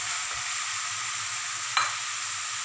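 Boiled chicken and vegetables fry in a pan with a steady, even sizzle up close and one brief clink of a utensil partway through.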